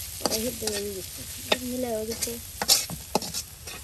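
Potatoes frying with dried chillies are turned over in a pan, a soft sizzle broken by sharp scraping strokes of the spatula, close by, with a few brief tonal clinks.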